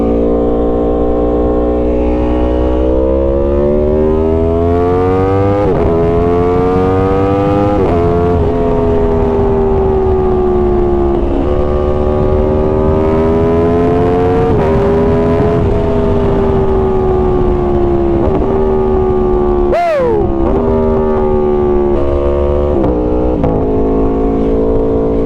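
A 2018 Aprilia Tuono V4 Factory motorcycle in sport mode gives a loud, close engine drone that rises and falls through gear changes, with one sharp blip near the end. No one speaks.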